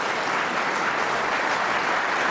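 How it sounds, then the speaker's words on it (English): Applause breaks out for a shot at the 2012 World Snooker Championship, Ronnie O'Sullivan among those clapping, a dense, steady burst of many hands filling the arena without voices over it. "applauded by Ronnie O'Sullivan there as well"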